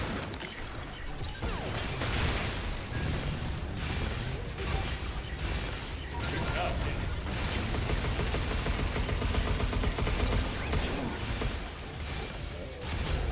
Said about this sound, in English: Hit him with all the sticky bombs